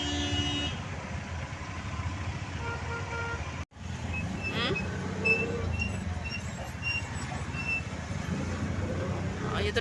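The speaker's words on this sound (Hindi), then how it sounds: "ये तो ट्रैफिक है।" Steady road traffic with passing car, motorcycle and truck engines rumbles throughout, briefly cutting out for an instant, with a faint horn-like tone later; voices murmur faintly in the background.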